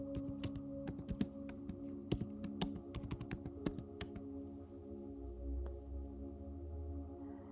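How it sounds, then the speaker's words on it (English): A name is typed on a computer keyboard in a quick, uneven run of crisp key clicks, which fades after a few seconds into a quiet low hum. "let me type her name in the chat box"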